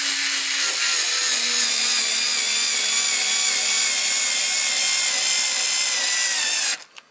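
A SKIL 2710 cordless screwdriver runs at a steady, loud, high whine while driving screws into wood, holding its pitch with only a small dip before cutting off abruptly.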